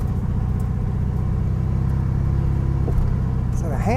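An old, long-abandoned VW Beetle engine drones loudly and steadily as the car drives fast through a muddy ditch, then revs toward the end. Voices talk over it.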